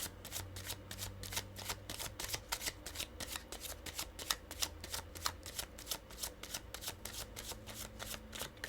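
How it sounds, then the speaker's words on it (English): Tarot cards are shuffled over and over, a quiet, close run of quick papery riffles and slaps that goes on in a steady rhythm for several seconds, with no speech. "That was a good little shuffle."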